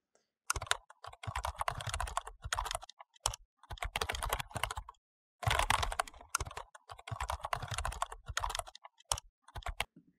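Code being typed on a computer keyboard for a Python and Django Docker setup, with dense bursts of close, rapid key clicks in several runs separated by short pauses.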